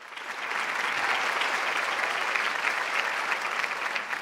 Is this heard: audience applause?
yes